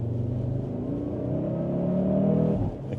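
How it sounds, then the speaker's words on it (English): A Cupra Formentor VZ5's 390 hp five-cylinder engine revs hard and loud on a closed road, its rising harmonic note building steadily before dropping off abruptly at the end. "now you just get that 5-cylinder noise"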